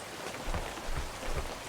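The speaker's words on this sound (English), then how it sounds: "you can hear the rain hitting the wood" Rain patters steadily on wood and drips off trees, a dense hiss of drops with soft low thumps recurring every half second or so.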